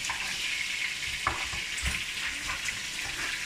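Fish frying in hot oil for a jollof rice dish, a steady close sizzle with crackling running through the whole stretch and a few brief knocks from handling, with no talking.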